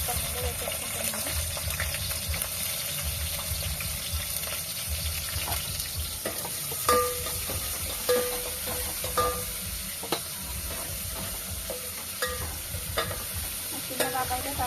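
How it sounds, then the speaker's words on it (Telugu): Onion pieces sizzle and crackle in hot oil in a home kitchen pan, a steady close frying hiss with intermittent stirring clicks and scrapes throughout. "ఏంటి ఆయిల్ అయితే వేడైపోయింది ఫ్రెండ్స్. ఫస్ట్ అయితే ఉల్లిపాయ ముక్కలు మీద వేసేసుకుంటున్నాను."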